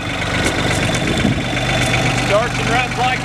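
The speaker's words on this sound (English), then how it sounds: "Starts and runs like it should. Clean little tractor." A John Deere 950 two-wheel-drive diesel compact tractor idles nearby with a steady, low, chugging rumble that stays even throughout the short stretch.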